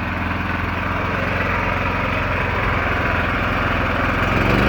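A Lifan KP3500iO inverter generator runs steadily nearby, a loud continuous engine drone with a low throbbing hum that holds even throughout, as the unit is being switched into eco mode.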